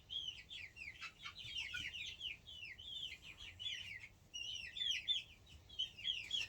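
Young chicks peep and chirp continuously at close range, a busy overlapping stream of high, quick calls with no talking, fairly soft overall.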